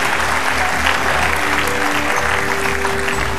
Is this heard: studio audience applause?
yes